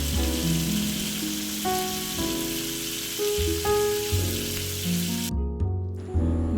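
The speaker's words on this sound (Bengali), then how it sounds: "মাছগুলোকে আমি কড়া কড়া করে ভেজে নিলাম" Fish sizzles steadily as it fries crisp in hot oil, a constant crackling hiss beneath louder background music.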